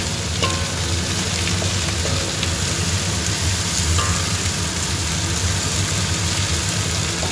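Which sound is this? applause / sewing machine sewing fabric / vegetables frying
vegetables frying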